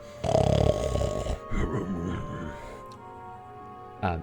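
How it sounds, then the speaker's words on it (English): A room full of ogres snoring loudly in a fantasy tabletop game scene: rough, growling snores with heavy snorts and grunts, one long loud rasp followed by shorter rumbling breaths and a final snort. "The rest are snoring loudly."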